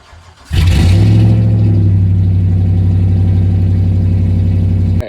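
Cold start of a truck's 4.7 Magnum V8 with the muffler cut off: a sharp crank and catch, then a loud, raw, steady rumbling idle close by that continues for several seconds.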